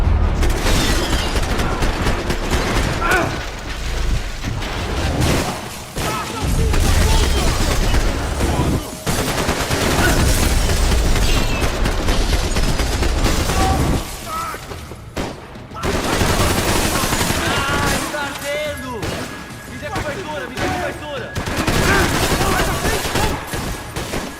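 Video game gunfire from Max Payne 3: dense, sustained bursts of rapid shots and booms fill most of the stretch, with brief lulls, while voices talk over the shooting.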